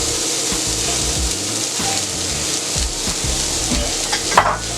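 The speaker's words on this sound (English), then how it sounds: "First thing I'm going to throw on the grill, and I'm going to put them up here, is my onion." Onion searing on a hot Steelmade steel griddle for house special fried rice, a loud steady sizzle close by with scraping spatula strokes and a sharper clatter near the end.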